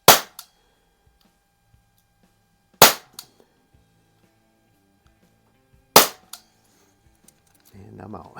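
Three sharp, loud cracks from a Crosman 338 semi-auto CO2 BB pistol after a full reseal, fired outdoors down range, spaced about three seconds apart with a brief ring after each, then a faint rustle.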